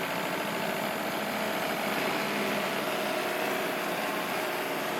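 A live steam engine powering an RC fishing boat during a tub test runs with a steady, dense hiss and mechanical hum, continuous and fairly loud throughout with no voices.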